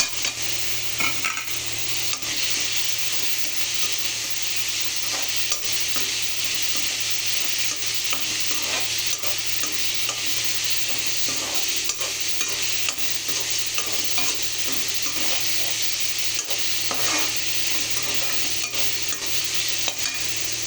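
Tomatoes sautéing in a pan with oil, a continuous loud sizzle and crackle over a low steady hum, broken by irregular stirring scrapes throughout.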